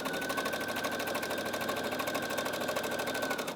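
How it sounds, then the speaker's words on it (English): A sewing machine runs steadily, stitching the right side of a facing to the wrong side of a heavier-fabric blouse, with a fast, even mechanical whir and rapid stitch pulses close up for several seconds. "stitching the right side of the facing to the wrong side of the blouse"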